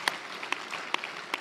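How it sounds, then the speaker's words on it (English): Four sharp, evenly spaced claps ring out over a quiet hall background at the Safaricom Decode 3.0 developer event, sparse and isolated rather than a full round of applause. "Let's give everyone a round of applause in here."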